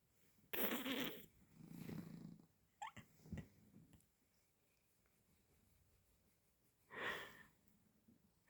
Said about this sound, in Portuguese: Mas ele não acorda, ó. Tá roncando.